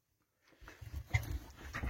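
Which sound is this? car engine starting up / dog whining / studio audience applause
dog whining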